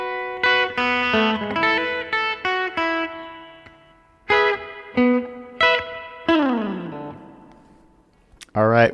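Distorted, effects-laden electric guitar plays slow phrases from the second verse of a surf tune, in short bursts of picked notes and chords with gaps, a downward slide and a sharp final strum.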